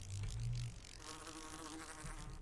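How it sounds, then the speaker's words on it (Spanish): Wasps buzz in a video game, a faint, steady droning hum that carries on for a couple of seconds with no voices. "Es que me ponen nerviosas estas avispas"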